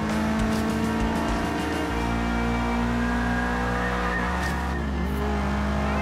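Subaru WRX STI engine in the racing game Forza Horizon 4, a loud sustained roar that holds high revs, then drops with gear changes, with faint tyre noise underneath.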